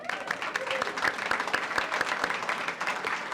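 Applause from a crowd at a library dedication at Sul Ross, a brisk, fairly close patter of clapping that stays steady throughout, with faint voices underneath.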